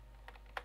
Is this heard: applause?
no